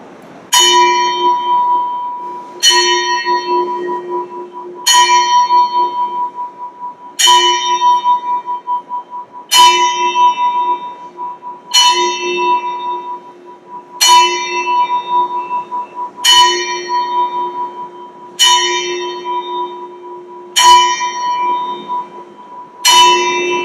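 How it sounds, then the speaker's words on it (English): A church bell rings out the hour of eleven during a remembrance service, eleven evenly spaced, resonant strikes roughly two seconds apart, each ringing on into the next, loud and close with no talk over them. "I ask you to listen to the reverence of the chime of the hour of 11"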